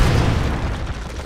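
A bomb goes off in the video game Keep Talking and Nobody Explodes, a loud, close, deep rumbling blast that fills the whole moment and slowly eases, with no voices over it.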